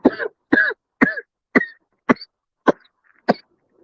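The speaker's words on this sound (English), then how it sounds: "I had to get my biggie cough on." A man coughs seven times in a steady series, each one a sharp, close, throaty burst about half a second apart, with no talking.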